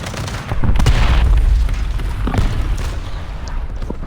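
Tank cannon fire from a T-80U or M1A1 in War Thunder Mobile, a deep booming blast with a sustained rumbling roll that stays loud across the clip, with no talk over it.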